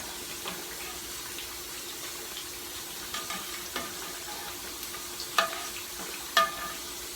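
French fries cooking in hot oil, a soft continuous bubbling hiss with occasional sharp pops and light clinks, fairly quiet and close, with no speech.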